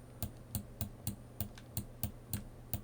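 Steady keystrokes on a computer keyboard, about nine evenly spaced taps, quiet and close, with no talk.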